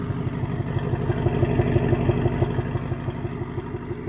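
A 2024 Ford Mustang GT engine rumbles with a rapid, even pulsing throb at moderate loudness, rising slightly in the middle, with no talking over it.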